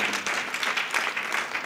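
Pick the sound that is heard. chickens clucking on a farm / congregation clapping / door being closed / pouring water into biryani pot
congregation clapping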